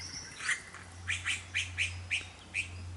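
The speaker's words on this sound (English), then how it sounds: "Now for the first time I can see pretty clearly the male Satin Bower Bird at one of his" A male satin bowerbird calls at his dancing bower during a courtship display, giving about six short, sharp chirping calls in an uneven series over a steady low hum.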